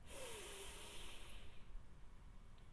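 Slow breath drawn in and let out during a guided breathing exercise, a soft airy hiss that is quiet and close, heard alone without talk.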